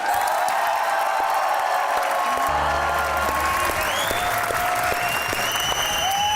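Studio audience applauding to welcome guests on a talk show, dense continuous clapping at steady volume, with music and tonal sounds rising underneath partway through.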